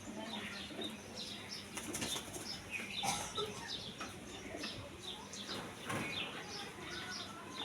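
A pigeon held in the hand flaps its wings in repeated quick bursts of fluttering, fairly faint, with a soft coo among them.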